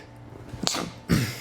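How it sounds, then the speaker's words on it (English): A single person sneezes close by, a short sharp intake and then an explosive burst, in an otherwise quiet room. "I gotta sneeze."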